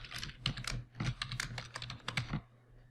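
A password is typed on a computer keyboard while connecting to an Azure PostgreSQL database server: quiet, close keystrokes in short uneven bursts, trailing off at the end.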